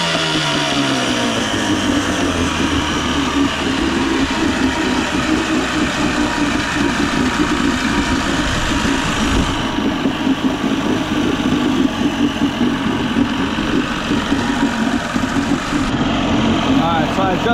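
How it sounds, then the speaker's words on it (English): A small outboard motor idles continuously at close range, a steady throbbing rumble with slight variations throughout, no pauses. "I think that's the sweet spot for this motor. Seems to be idling a little better."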